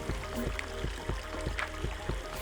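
A backyard waterfall water feature flows with a steady splashing trickle, overlaid by a repeating rhythmic thump and a faint tonal hum, heard close and moderately quiet.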